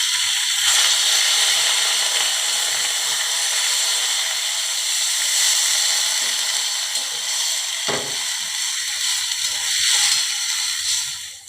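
Water poured into a pan of frying shol fish sets off a loud, steady hissing sizzle that fills the whole stretch, with a brief clatter partway through and no voices.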